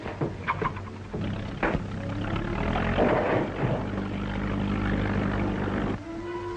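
A steady low engine drone with a rhythmic propeller-like throb runs throughout, fairly close and continuous, with a few clicks near the start.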